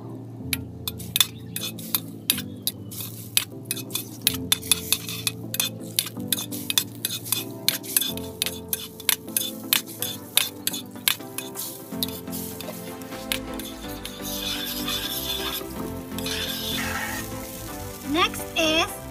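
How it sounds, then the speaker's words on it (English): Butter melting in a frying pan gives a steady sizzle beneath frequent clinks of a utensil against the pan, growing into a denser, hissing fry toward the end. "Melt the butter in a pan."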